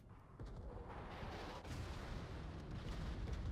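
Shell ricochets in a naval battle game aboard the battleship USS Georgia, heard as a dense, continuous rumble of gunfire and impacts with no clearly separable hits, loud and sustained throughout.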